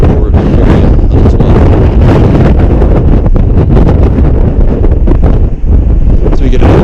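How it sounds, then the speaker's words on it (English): Strong wind buffets the microphone on the open upper deck of the cruise ship Navigator of the Seas, loud continuous roaring gusts with rumbling low end that briefly dip near the end; no voice is heard over it. "It's very windy this morning"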